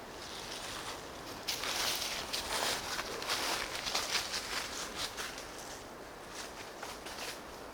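High wind rushing through spruce trees in the bush, a broad continuous roar that swells and gusts in waves, fairly loud and steady with no voices.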